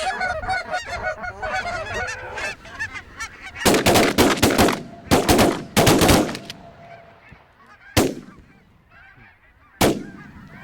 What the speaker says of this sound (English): Finally, some friendly birds.